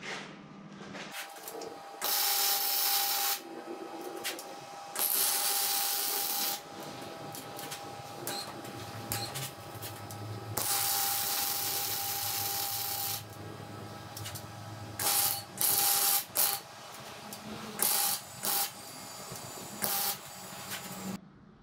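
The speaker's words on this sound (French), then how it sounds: "je vais continuer de souder." Welding on a car chassis, with long bursts of crackling, hissing arc noise broken by short pauses and brief spurts, close and fairly loud with no talk.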